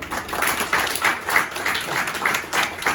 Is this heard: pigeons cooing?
no